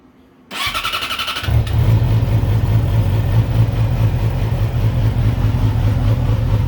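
A 2016 Yamaha YZF-R6 sport bike cranks with a starter whir, then fires and settles into a loud, throaty, rumbling idle, close up and steady with no voices.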